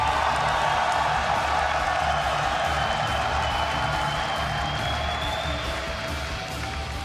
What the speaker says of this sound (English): when the crowd cheers for Jaedong, it still like erupts into our headsets